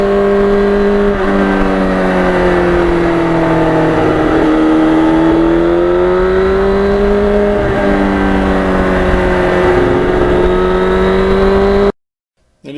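A 1991 Yamaha FZR 1000 motorcycle engine revving up and down nearby, a loud continuous buzzy drone whose pitch rises and falls in smooth swells before cutting off abruptly.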